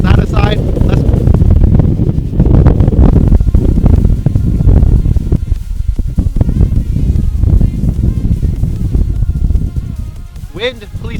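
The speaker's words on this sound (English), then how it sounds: "Wind, please stop." Strong wind buffets the microphone outdoors at a trestle bridge while FPV drones are flown, producing a loud, continuous low roar that masks most other sound, with a faint voice breaking through.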